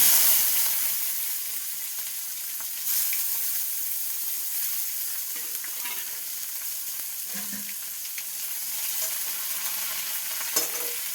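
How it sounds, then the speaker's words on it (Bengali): Bay leaves, two cloves and onion drop into hot mustard oil and fry with a steady, close sizzle, broken by occasional stirring scrapes and clinks, with no voices. "তেল গরম হয়ে গেছে, এবার আমি দিয়ে দিচ্ছি দুটো তেজপাতা, দুটো দিয়ে দিচ্ছি লং, আর দিয়ে দিচ্ছি পেঁয়াজ"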